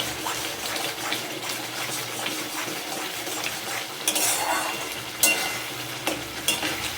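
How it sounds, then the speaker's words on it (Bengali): Spice paste stir-fries in a pan with a busy, close sizzle and repeated metal scraping and clattering of a spoon against the pan. "মশলাটাকে ভালো করে কষাতে হবে, না কষালে না হবে না, সুন্দরভাবে কষিয়ে নিতে হবে"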